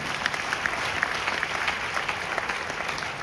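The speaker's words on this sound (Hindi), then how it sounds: "आप जैसे श्रोताओं के लिए, आप स्वयं के लिए एक बार तालियां बजा दीजिए।" Steady applause from a live audience at a Hindi comedy show, continuous dense clapping with no talk for the whole stretch, moderately loud and even throughout.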